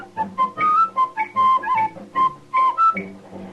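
Someone whistles a bouncy radio show tune, clear melodic phrases rising and falling in short bursts with little else around them.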